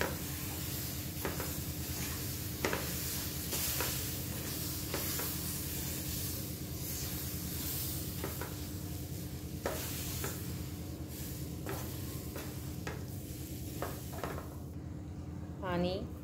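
Mango pulp and semolina are stirred in a pan over a low flame, giving a soft continuous sizzle and scraping with periodic spoon strokes against the metal, quiet and close, while a voice speaks throughout.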